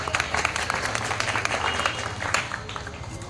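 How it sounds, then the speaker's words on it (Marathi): An audience at a student felicitation ceremony claps to welcome two organisations, dense sustained applause from a crowd filling the room, steady and fairly loud throughout. "आपण सर्वांनी टाळ्या वाजवून त्यांचं स्वागत करायचं आहे।"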